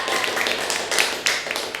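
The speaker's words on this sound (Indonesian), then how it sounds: "tepuk tangan" Scattered clapping from a small classroom group after a student's Japanese-language presentation, a steady patter of hand claps at moderate level for a couple of seconds.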